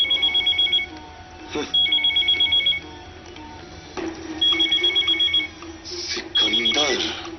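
A telephone rings in bursts of a shrill, electronic trilling bell, four rings with short gaps in between, loud and close, while someone speaks over the end of the ringing.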